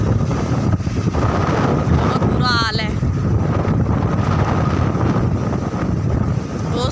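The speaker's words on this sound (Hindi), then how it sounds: "तेज हवाएं चल रही हैं।" Strong, cold wind buffets the microphone in a steady, loud roar throughout an outdoor scene in Haryana, with a brief tonal whine partway through.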